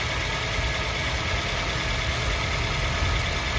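A healthy used car engine idles steadily and smoothly: a constant, even hum and low rumble up close, with no surges, knocks or rattles and no voices.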